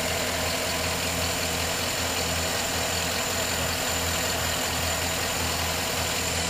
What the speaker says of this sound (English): Engine's running nice and strong, nice and smooth. No issues there. Nice V8.